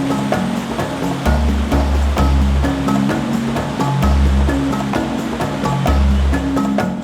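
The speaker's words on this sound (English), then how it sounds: "Nothing like a nice water crossing to break the ice." A four-wheel-drive vehicle ploughs through a water crossing, with continuous loud splashing and rushing water over a deep low rumble that swells and eases in repeated waves, with no voices.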